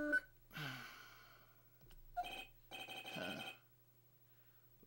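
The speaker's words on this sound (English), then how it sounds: "I bet it was this ringtone that caused it." A phone ringtone from the Phoenix Wright courtroom video game rings in two bursts, each a bright repeating electronic trill with a short gap between them and a steady low hum underneath.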